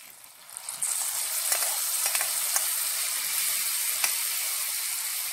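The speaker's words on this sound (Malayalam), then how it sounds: "നമുക്ക് ഈ വറുത്തത് ഈ പായസത്തിലേക്ക് ഒഴിക്കും." Ghee-fried coconut and cashews are poured into guava payasam and set off a loud, bright sizzle that starts abruptly and hisses on steadily with small crackles, with no talking.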